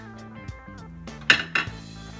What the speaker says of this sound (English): You gotta add it to a hot liquid to make it work. So we're gonna mix that into there.